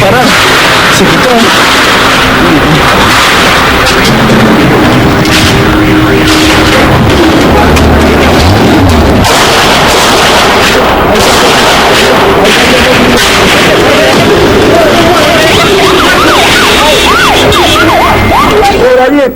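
Explosions and gunfire during the takeover of the Japanese embassy, loud and chaotic across the whole stretch, mixed with blaring sirens, crowd noise and voices shouting nearby.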